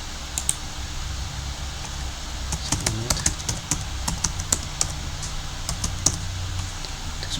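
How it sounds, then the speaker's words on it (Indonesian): A computer keyboard typing login details for a remote server, heard as a steady stream of close, sharp key taps at an uneven rhythm over a constant low background hum, with no speech. "Kita masuk lagi menggunakan ketik."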